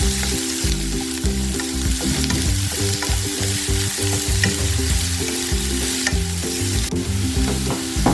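Two large finely chopped onions sizzling and sautéing in a hot pan, with a steady close crackle and frequent stirring scrapes throughout, no voices.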